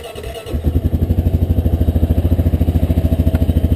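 An engine cranks briefly and catches, then settles into a steady, loud, rhythmic chugging idle with regular pulses close by.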